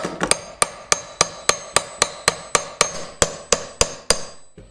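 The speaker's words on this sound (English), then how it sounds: "And then we're going to drive this race down in there." A hammer drives a bearing race into a Dana 20 transfer case from an early Ford Bronco: about fifteen sharp metallic blows at a quick, even pace, close and loud, with no talking.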